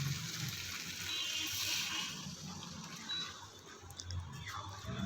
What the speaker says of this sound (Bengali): এবারে আমি এখানে দিয়ে দেবো উষ্ণ গরম জল